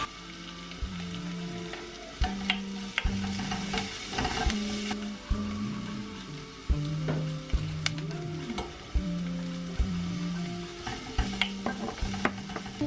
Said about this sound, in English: onions are cooking away nicely, and now I'm just going to add in the garlic